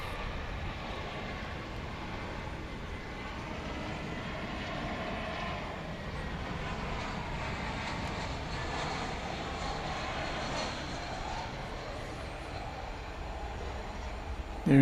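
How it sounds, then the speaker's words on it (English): An airliner taxiing at DFW airport at night gives a steady, continuous engine roar and whine heard from a moderate distance, with no other sounds standing out. "There's the plane we're waiting for. Pushed back. Headed our way."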